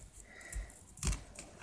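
Scissors snip through folded paper to cut rounded curves for a Halloween spider-web craft, giving two brief, close, crisp cuts in an otherwise quiet room.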